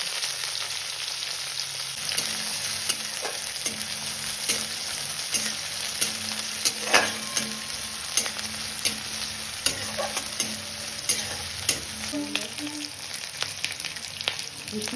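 Cumin seeds and a small chopped onion fry in mustard oil in a kadai, giving a steady close sizzle broken by frequent scraping clicks of a stirring spoon against the pan.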